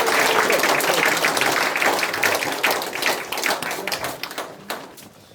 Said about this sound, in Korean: 우리 스스로를 위해서 큰 박수 한번 올리면 어떨까요?